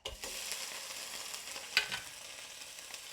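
Drained canned sardines fry in a stainless steel pan with a continuous bright sizzle and crackle, punctuated by a sharper spit of splashing oil near the middle; no one speaks.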